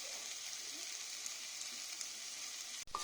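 Pineapple pickle frying in a pan with salt just added, a soft steady sizzle and hiss with occasional light stirring clicks, fairly quiet, ending in a sharp utensil knock near the close; no talk.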